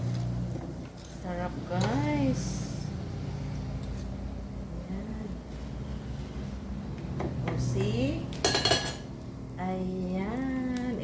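Cooked food being plated, with pans and cutlery clinking and scraping in a home kitchen; intermittent clatter runs through the clip alongside a speaking voice, with a brief sharper knock near the end.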